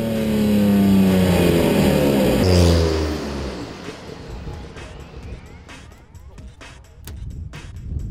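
A Porsche 962 Le Mans race car accelerates hard, its engine loud and close with a rising, harmonic roar that drops away after a few seconds, leaving quieter mechanical noise and possible talk.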